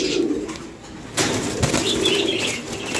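A pigeon's wings flap in a sudden flurry about a second in, a loud fluttering burst that continues as rustling wing beats, with soft cooing nearby.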